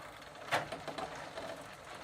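A Sturmey Archer 3-speed bicycle hub turns on a bench as it is shifted into second gear, a faint mechanical whir with a sharp click near the start followed by light rhythmic ticking.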